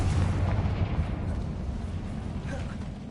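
A Confringo fire spell explodes in the Hogwarts Legacy video game, giving a loud, booming burst that rumbles and fades over a few seconds.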